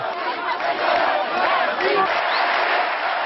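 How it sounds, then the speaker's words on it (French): A dense street crowd of supporters cheers and shouts continuously for a political figure, a loud, steady roar of many voices filling the space. "Ségolène Royal s'offre un bain de foule, comme si elle avait bien remporté une victoire."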